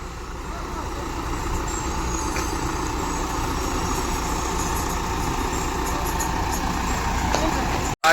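An RMC ready-mix concrete truck idles at a construction site, a steady low diesel rumble running nearly unchanged before cutting off abruptly near the end, with people talking over it.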